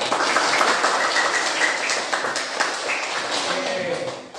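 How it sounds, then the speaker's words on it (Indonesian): A group of people in a morning gathering burst into sustained, dense clapping that fills the whole stretch at a fairly loud level, with voices mixed in. "Beri tepuk tangan untuk kita semua."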